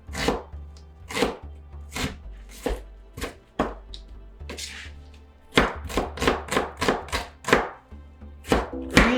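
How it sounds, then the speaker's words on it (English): Onions and tomato being chopped on a cutting board for Guyanese saltfish and bake, a string of crisp knife thunks in quick irregular bursts, close and loud, with a pause before a faster run. "he's gonna cut up like the onions and the tomato"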